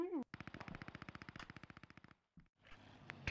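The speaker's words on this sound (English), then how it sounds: "I can hear him shoot." Enemy machine-gun fire in Post Scriptum, a long rapid burst of about twenty evenly spaced shots lasting two seconds, then a brief pause and a couple of lone shots, with voices talking faintly around it.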